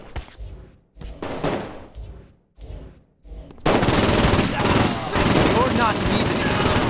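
Sustained machine gun fire from a newly hacked-in weapon in the Saints Row IV video game, loud and dense after a few short bursts mixed with game noise.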